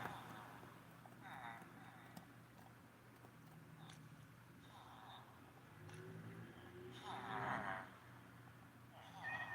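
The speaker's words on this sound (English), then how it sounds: "this cat is relentless" Cat in Minecraft Bedrock Edition meowing repeatedly, several short game meows spaced a few seconds apart, fairly faint over a low background hum.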